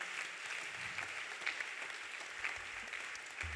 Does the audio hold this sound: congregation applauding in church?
yes